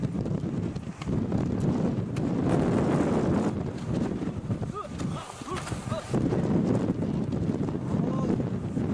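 Strong wind high on Hallasan mountain in winter, a constant loud roar and buffeting against the microphone, with faint crunching steps and a little talk mixed in.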